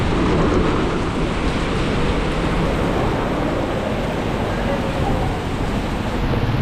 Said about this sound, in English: As it's raining real hard, they have to push the water out.